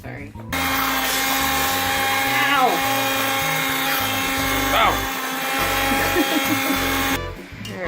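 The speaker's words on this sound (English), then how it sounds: "So the speed blender got a bit dangerous." An immersion blender runs loud and close in hot berry jam, its motor whining and wavering in pitch as it churns, then cutting off abruptly near the end while voices react over it.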